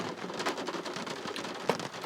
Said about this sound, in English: Yep, that's rain.